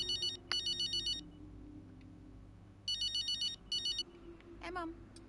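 A phone rings in the F1 23 video game with two bursts of rapid electronic trilling, a pause between them, then a short chime over quiet background.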